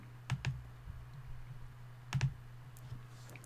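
Two quick pairs of soft computer mouse clicks, spaced about two seconds apart, over a quiet low electrical hum.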